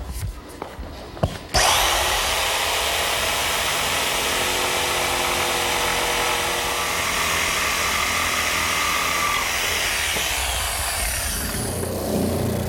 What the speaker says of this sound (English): I'm going to actually just use a handheld jigsaw to make the cut